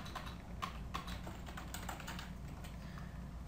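Quick, light keystrokes on a computer keyboard, a soft irregular patter of close clicks over a steady low background hum.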